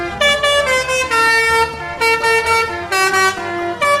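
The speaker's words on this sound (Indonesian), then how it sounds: "ternyata ada bus telolet teman-teman" Toy telolet bus horn dug up from sand, playing a bright multi-tone melodic honking tune in short repeated phrases, loud and close with no talking.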